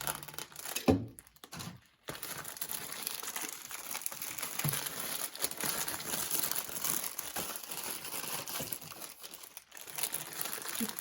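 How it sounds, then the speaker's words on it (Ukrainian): Parcel packaging being cut open and unwrapped for Mill Hill craft kits, with steady crinkling and tearing of plastic and paper running throughout, close and fairly loud, broken by a couple of brief pauses. "Ой, я так ріжу, хоч би ще упаковки самі не порізати."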